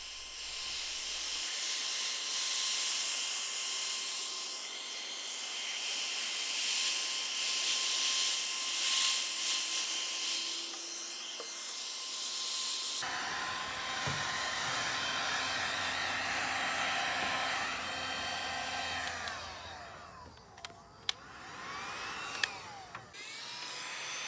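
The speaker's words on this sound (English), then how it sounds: "with the heat gun, you're not going to want to stay in one spot for too long" A heat gun blows hot air in a continuous, fairly quiet hissing roar over faded plastic on a 1996 Sea-Doo GTI, its tone shifting partway through, with a few small knocks near the end.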